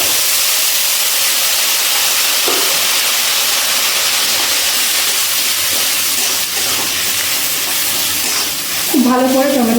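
Loud, steady sizzle of tomato paste and black cumin hitting hot oil, a broad hissing spatter that fills the whole stretch, with a voice talking briefly near the end.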